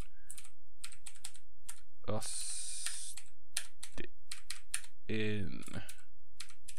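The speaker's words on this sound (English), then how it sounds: "So now I have to put the keyboard to write in my name." A computer keyboard is typed on to enter a player name in the Steam version of the PC game TrickStyle. Quick bursts of sharp key clicks are broken by short spoken remarks and a few brief game sounds.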